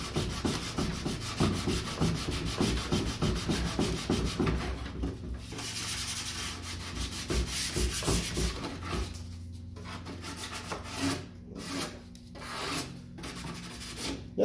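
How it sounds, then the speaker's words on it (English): Hand sanding on an old wooden secretary hutch: steady rasping, rubbing strokes in a quick repeating rhythm, close and moderately loud, easing into softer, more scattered scrubbing toward the end with no talk. "get it sanded down, and then, get it sanded down and smoothed up"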